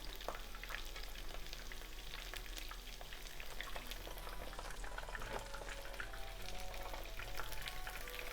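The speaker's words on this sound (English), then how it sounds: "you just need to fry them for 1 minute or so" Okra fries in hot oil over medium to medium-high heat, a steady, fairly quiet bubbling sizzle with small crackles that continues without a break.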